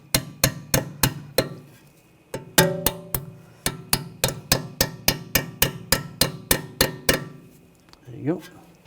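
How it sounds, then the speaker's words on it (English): A small hammer taps a brake line clip into its bracket on a 2007-2013 BMW X5, a steady series of sharp metallic strikes, about twenty close, clean taps with a short pause partway through. "You can just take a little hammer and just tap it into place."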